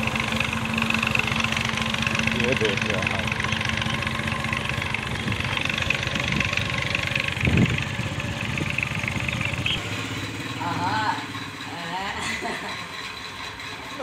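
A tractor engine chugs steadily nearby, loud and continuous, while someone talks over it.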